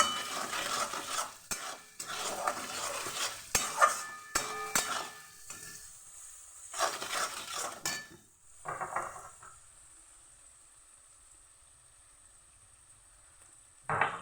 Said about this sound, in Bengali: আর এই যে মশলা কষা হচ্ছে